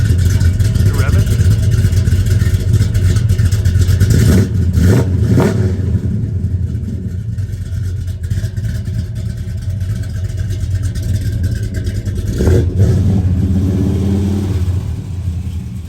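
A 1969 Dodge Coronet R/T muscle car engine idles with a loud, deep rumble and is revved in a few surges, close by, with people talking faintly in the background.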